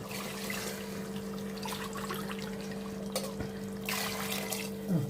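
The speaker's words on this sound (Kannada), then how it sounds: "ಇವಾಗ ನೀರು ಹಾಕೋಣ" Water pours and trickles into a pot for chicken biryani in short runs over a constant low electrical hum, with a soft knock midway.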